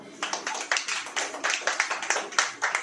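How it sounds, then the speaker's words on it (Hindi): A small audience claps together at a church gathering, quick rhythmic bursts of hand claps repeating steadily for a few seconds, fairly close and moderately loud. "ताली बजाओ।"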